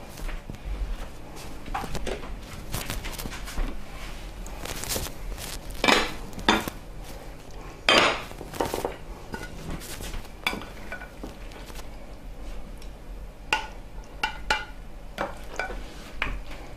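Food being plated with dishes and cutlery after making tuna-stuffed fish with raw onions, fresh tomatoes and raw apples: scattered clinks and taps of plates and utensils, a few louder knocks, over a quiet kitchen background with no talking.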